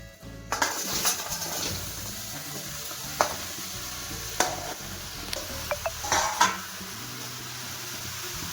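Cooking in a steel wok (kadai) on a gas stove for Odia lau santula: a soft steady sizzle with occasional sharp metallic clinks and scrapes of a spoon against the pan.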